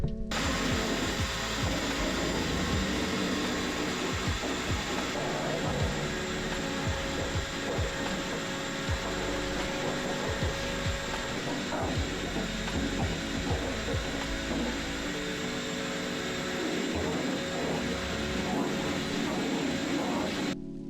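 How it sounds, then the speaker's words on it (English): A vacuum cleaner hoovers out the floors and seat bench of a Classic Mini saloon after years stored in a loft, a steady close motor roar with rattling, scraping bursts as the nozzle works over the surfaces, running continuously. "That's all the floors and seat bench all hoovered out"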